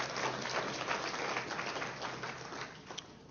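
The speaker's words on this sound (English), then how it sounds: "big round of applause?" Applause from an audience at an outdoor groundbreaking ceremony for a wellness center, a steady faint patter of clapping that fades slightly toward the end.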